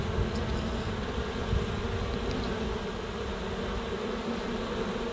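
Honey bees swarm around a busy, booming hive, a dense continuous buzzing drone that stays steady and close throughout, with no voices.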